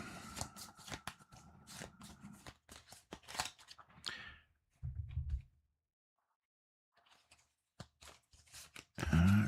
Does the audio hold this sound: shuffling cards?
yes